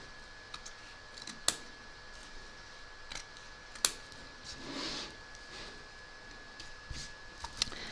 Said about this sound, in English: So I'm going to trim up these tails.